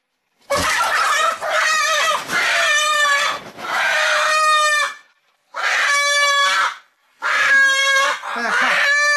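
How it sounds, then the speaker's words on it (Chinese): Several loud, close bursts of drawn-out, harmonic clucking and squawking come from old hens on a farm, one of them with most of its feathers missing. The calls arrive in separate bouts broken by short silences. "这个毛都没有了的，这个老鸡啊。 老母鸡了。"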